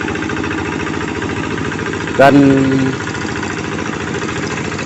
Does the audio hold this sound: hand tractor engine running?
yes